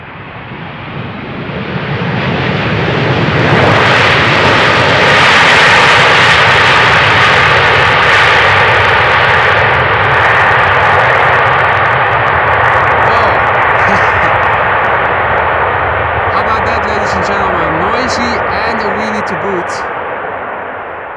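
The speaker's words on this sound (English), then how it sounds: "Probably the best 747 landing we've seen in this stream so far." Boeing 747 jet lands at Amsterdam Schiphol Airport, a loud roaring engine rush that swells in over the first seconds, holds strong, then slowly fades; faint voices appear near the end.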